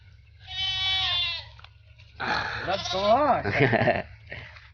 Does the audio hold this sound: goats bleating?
yes